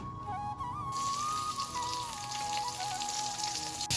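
Vegetables fry in oil with salt and turmeric over a lit stove, a dense, steady sizzle that starts abruptly after a quiet moment, with a thin whistling tone running through it.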